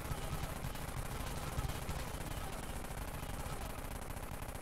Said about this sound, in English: One minigun versus another.